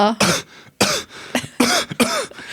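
Several sharp, harsh coughs close by, coming in quick bursts with brief pauses between them, with some throat clearing mixed in.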